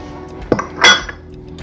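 A spoon tipping baking powder into a mixing bowl for a Jamaican coconut cake batter, with two quick close clinks of metal against the bowl in a short, otherwise quiet moment.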